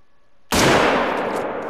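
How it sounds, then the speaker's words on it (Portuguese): A single sharp hunting-rifle gunshot in the video game theHunter: Call of the Wild bursts out of near silence, loud and close, its blast trailing off into a long, noisy echo. "Foi ruim o tiro."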